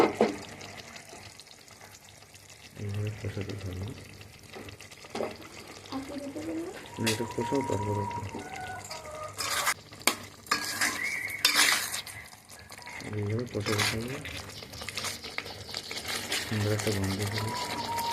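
Spices and chicken are stir-fried in a kadai with clinks and scrapes of a spoon against the metal and a low frying hiss, while someone talks over much of it.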